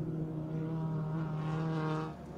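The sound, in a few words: Novak Racing Honda EK9 race car braking and turning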